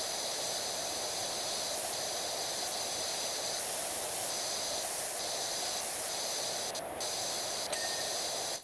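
Steady high-pressure hiss of a pressure washer spraying from a narrowed wide nozzle in PowerWash Simulator 2, a continuous loud wash of noise with a few brief shifts in tone.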